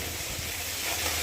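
Spices fry in hot oil in a pan with a little salt added, giving a short burst of steady, hissing sizzle at close range.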